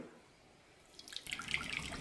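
Thick blended watermelon pulp is poured into a pan for jam. After a second of near quiet, a soft splashing and gurgling pour builds up.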